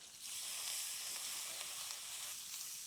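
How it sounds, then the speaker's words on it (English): Wild boar bacon with thyme sizzles in a pan, a steady, bright crackle of fat frying throughout, close and fairly loud with no talk over it. "Some wild boar bacon is fattier than others. Look at that, it's just getting crispy right away."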